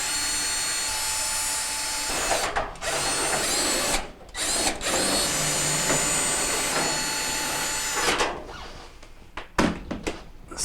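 A power drill fitted with a flexible bit backs screws out of a Maytag dryer during a blower wheel repair, whirring loudly and continuously in long runs with a few brief stops and restarts.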